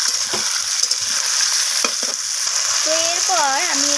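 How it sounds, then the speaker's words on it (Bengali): Chopped tomatoes and potatoes frying in a pan give a continuous close sizzle, with the scrape and clack of stirring breaking in now and then and a brief squeaky scrape near the end. "আমি আলুর সাথে এইভাবে মিশিয়ে নিয়ে একটু ভাজা ভাজা করে নিচ্ছি"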